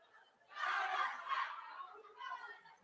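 A team's group cheer at a leadership congress, loud crowd-like chanting voices rising after a quiet start, sustained for about a second and a half, then a second shorter burst of shouting.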